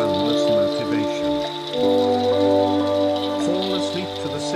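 Steady rainfall hisses beneath prominent sustained music with low tones and melodic notes, the rain continuous and soft throughout.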